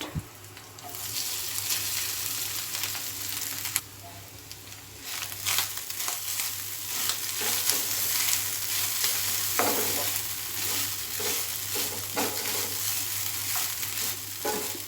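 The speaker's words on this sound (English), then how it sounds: "So we have to cook this coconut for 2 to 3 minutes like that." Grated coconut is sautéed on low flame in a pan for South Indian coconut rice, with a gentle sizzle under repeated scraping stirs of the spatula that grow busier toward the end.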